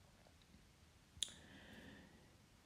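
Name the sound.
computer mouse click on a tab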